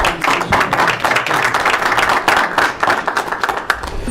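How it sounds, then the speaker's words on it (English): An audience at a school board of education meeting applauds in a dense, steady round of clapping from many hands, loud and sustained for several seconds. "Let's give a round of applause to Mr. Ayala for a wonderful"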